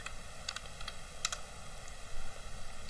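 Typing on a computer keyboard at a command line, a few quick faint key clicks in short bursts over a steady low hiss.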